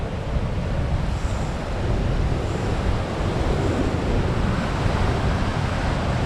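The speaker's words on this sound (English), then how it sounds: "Keep getting the odd wave giving us a splash." Sea waves wash and splash against a small fishing boat off the stormy Northumberland coast, with a steady, loud roar of surf and gusting wind filling the whole stretch and no voices.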